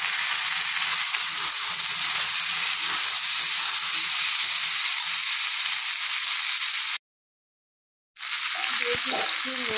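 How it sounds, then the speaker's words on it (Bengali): Mukhi kochu (taro) pieces fry in oil left over from frying fish, giving a loud continuous sizzle and hiss that cuts out briefly near the end, then resumes with stirring clatter. "ভাজা ওই তেলের মধ্যে আমি মুখী কচুগুলোকে একটু ভেজে নেব।"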